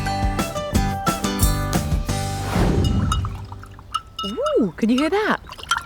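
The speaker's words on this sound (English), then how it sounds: "I love the tinkling, swishing sound of my paintbrush in the water glass" A paintbrush swishes and clinks in a glass of water, a brief splashy swirl following a run of bright musical notes, then a voice speaks over the quieter tail.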